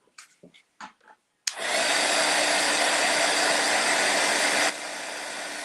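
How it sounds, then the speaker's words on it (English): A heat gun switches on with a click after a few soft taps and starts a loud, steady blowing roar over painted kindness rocks, the tone dropping slightly as the setting changes near the end. "we're going to hit this with the heat gun one more time"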